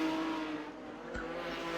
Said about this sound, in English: Gives him a shot in the back bumper and the cars get tangled together.